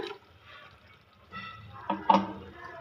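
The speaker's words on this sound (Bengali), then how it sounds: "ওই মিক্সি বাটি ধোয়ার জলটা দিয়ে দেবো, আর জল দেবো না" Rinse water from a mixer jar is poured into a boiling curry, making a quiet bubbling followed by a short liquid splash and pour of rising loudness.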